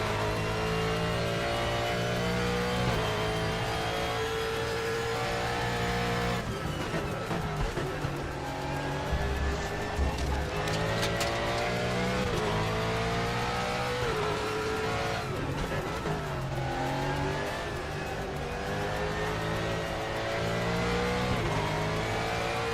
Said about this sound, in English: Does this car not sound amazing?